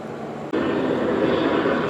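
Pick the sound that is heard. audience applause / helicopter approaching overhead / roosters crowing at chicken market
helicopter approaching overhead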